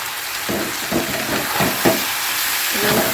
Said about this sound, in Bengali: তিন চামচ দই তিন চামচ দই দিয়ে দিলাম